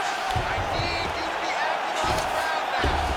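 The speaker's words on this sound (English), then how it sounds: "the crowd really showing their support for these two women" Arena crowd cheering in the EA Sports UFC 5 video game during a women's bout between Amanda Nunes and Ronda Rousey, a steady dense roar with swells of whoops throughout.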